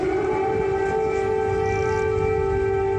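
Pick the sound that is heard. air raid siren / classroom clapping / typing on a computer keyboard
air raid siren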